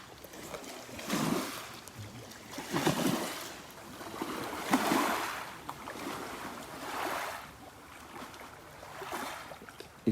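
Sea waves slosh and surge around a small fishing boat in rhythmic swells, each broad wash rising and fading about every two seconds, with wind noise over the water and no voices.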